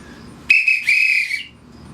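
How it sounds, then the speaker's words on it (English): A referee's whistle shrills close and loud in two quick, connected blasts lasting about a second, then cuts off into quiet room tone. "I'll give you the whistle one more time."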